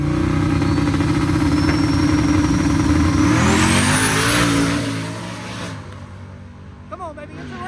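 Supercharged Ford F-150 four-wheel-drive trucks racing, a loud sustained engine roar with a rising supercharger whine that fades as they pull away, with voices talking over it.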